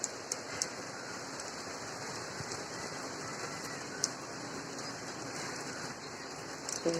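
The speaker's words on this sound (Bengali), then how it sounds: "বৃষ্টি হচ্ছে দেখো পুরো পরিমাণে বৃষ্টি হচ্ছে" Heavy rain pours steadily onto tin roofs in Chittagong in early May, a dense continuous hiss with occasional sharper drop impacts, no voices present.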